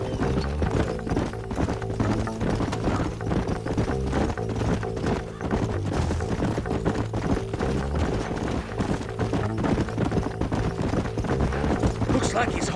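In Red Dead Redemption, horses' hooves clip-clop at a steady, rhythmic pace through the whole stretch, loud and continuous, with game sounds layered over them.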